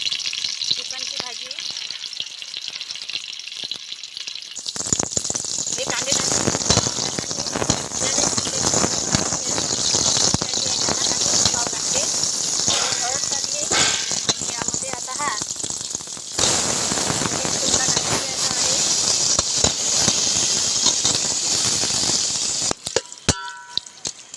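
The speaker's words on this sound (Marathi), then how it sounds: "त्याच्यामध्ये थोडा कांदा सोडून घ्यायचा आहे आपल्याला" Chopped onion dropped into hot oil for a village-style chicken rassa cooked on a wood-fired stove, bursting into a loud, steady sizzle that hisses continuously, close up, with a quieter moment before it starts.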